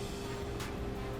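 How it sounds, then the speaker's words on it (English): A steady low mechanical hum of an ice cream maker drones on without a break, with a brief airy swish partway through and no voices. "I know you hear a hum in the background. That's the ice cream maker chilling."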